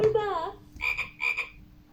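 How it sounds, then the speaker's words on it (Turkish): Frog croaks: a long rasping croak followed by two shorter pulsed croaks, close and clear with no talking. "Evet kurbağalar böyle ses çıkartıyor."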